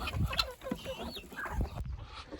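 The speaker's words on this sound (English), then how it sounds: "the ducks and chickens want to eat the goat feed today" Several chickens cluck and murmur nearby in short, irregular bursts, with soft scuffling in the background at low volume, on a farm where ducks and chickens go after goat feed.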